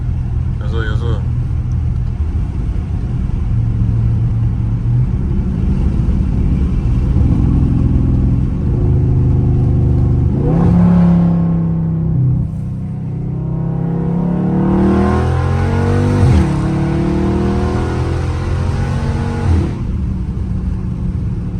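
A powerful Dodge Charger Scat Pack engine in street mode rumbles and revs as it drives, pitch climbing and dropping through gear changes, loud and close, with people talking over it.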